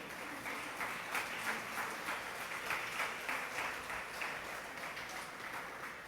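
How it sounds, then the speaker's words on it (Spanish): Church congregation clapping together in a strong round of applause for the Lord, a dense, fairly distant patter of many hands sustained evenly throughout with no voices over it. "¿Cuántos le pueden dar un fuerte aplauso al Señor?"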